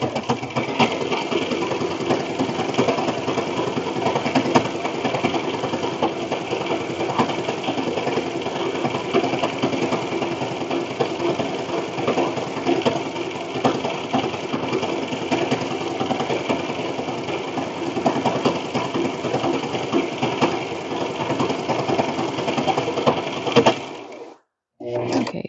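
A home sewing machine runs steadily while stitching a Wooper plush, a continuous close mechanical whir with rapid needle rhythm that stops briefly near the end.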